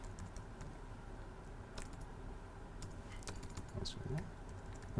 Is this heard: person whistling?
no